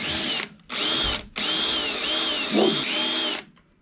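Power drill with a sharp bit working on a chopper motorcycle, whining in three bursts that rise and dip as the bit bites, loud and close, then the motor stops.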